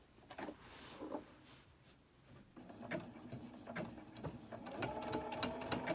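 A sewing machine stitches a seam on a Halloween table topper quilt, its needle running in short bursts of rapid mechanical whirring that build steadily louder and denser toward the end, heard close up with no talking.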